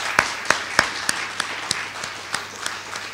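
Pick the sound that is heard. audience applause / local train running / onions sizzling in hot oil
audience applause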